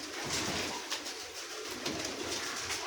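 A captive salara pigeon coos softly and repeatedly close by, its low murmuring calls running steadily under constant background noise.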